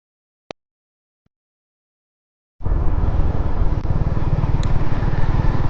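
After near silence and a couple of faint clicks, a motorcycle ride starts up as a loud, continuous rumble mixed with rushing wind that holds steady to the end.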